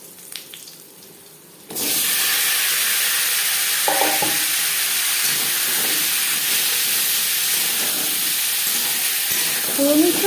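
Potatoes drop into hot oil already crackling with panch phoron and bay leaf for a katla fish curry, setting off a sudden loud, steady sizzle after a quieter start, with a few scrapes and clinks over the continuous frying hiss.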